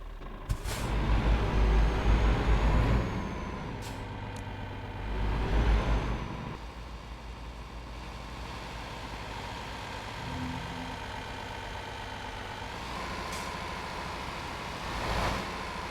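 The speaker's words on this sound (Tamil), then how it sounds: "ஓகே, இப்போ நம்ம வண்டியை ஸ்டார்ட் பண்ணலாம்." In Euro Truck Simulator 2 a truck engine cranks and starts with a deep rumble, then idles low, with short air brake hisses and clicks before and after.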